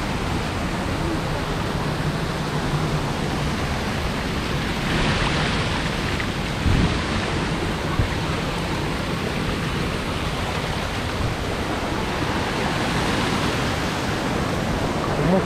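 Rushing waterfall roaring up close while climbers scale it, a constant, loud broadband wash of falling water with no break, alone and unchanging throughout.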